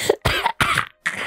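Three or four harsh, close coughs come in quick succession, each a loud burst separated by brief silences.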